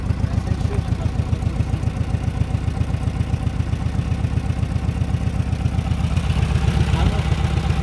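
A ZAZ Zaporozhets car engine idles close by with a steady, rapid rumbling pulse that grows slightly louder near the end, while voices talk over it.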